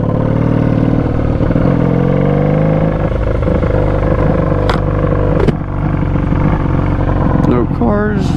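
A Honda Magna motorcycle rides along a street, its engine droning steadily and loudly with a brief rev and dip midway, while a rider talks over the engine noise throughout.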